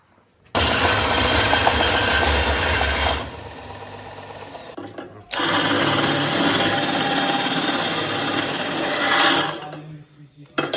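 Welding a replacement pipe on an Audi A3 exhaust after removing the silencer, with a loud, steady buzzing crackle that runs in two long bursts separated by a brief pause, close by and with no talk over it.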